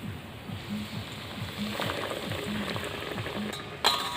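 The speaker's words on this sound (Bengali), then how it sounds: "তেলটাকে ভালো করে গরম করে নিয়েছি আর আঁচটাকে মিডিয়াম রেখে ভাজতে হবে।" Aloo tikki patties for a burger fry in hot oil over a medium flame, giving a soft, steady sizzle with faint rhythmic clicking and a brief clatter near the end; no talking.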